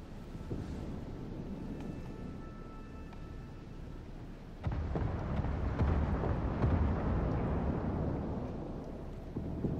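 Warship guns firing at the Omaha in a naval battle game, with a deep heavy boom partway through that swells into a sustained rumbling roar over steady low background noise.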